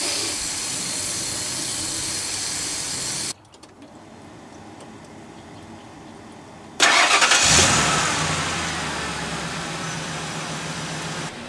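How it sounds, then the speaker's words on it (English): A van's engine, on a vehicle with a cooling-system problem, cranks and catches after a short quieter pause, then settles into a steady close idle with a bright hissing rush over the low engine hum, no talking. "top it off with water and run engine for 10 minutes until thermostat opens"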